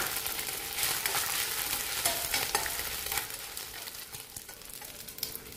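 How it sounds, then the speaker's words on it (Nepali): Meat frying in hot oil in a pan on a gas stove, a steady dense sizzle with crackles and occasional stirring clicks, easing slightly toward the end. "सुरुमा म यो मासु भुट्छु"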